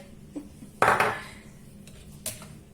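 A small spoon is pulled from a honey jar in a home kitchen, giving a sharp clink of metal on glass, a couple of lighter taps and one faint later clatter, close and alone.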